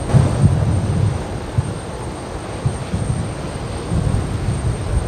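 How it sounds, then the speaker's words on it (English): A Qantas airliner taxis at Brisbane Airport during a cyclone evacuation, heard as a steady, loud low engine rumble and whine with slight swells, continuous and fairly near. "I'm following Qantas 1866 here. This is it's about to make the right hand onto Sierra."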